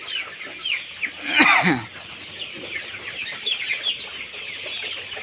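Several chickens cluck near and far in a busy, overlapping chatter, with one louder, rising squawk standing out partway through.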